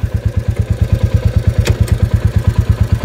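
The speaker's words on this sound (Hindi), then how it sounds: "अभी इंजन चालू है और अगर मैंने गियर में गाड़ी डाली" Royal Enfield Classic 350 single-cylinder engine idling close up, a loud, steady, even thump-thump beat, with a brief clack near the middle as it is shifted into first gear.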